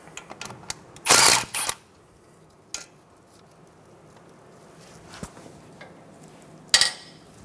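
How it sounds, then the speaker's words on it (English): A wrench working the 12mm bolt on a 2014-2019 Toyota Highlander front brake hose bracket, with sharp close metallic clicks and clatters in short bursts separated by quiet. "We're going to remove the 12mm bolt out of the brake hose bracket."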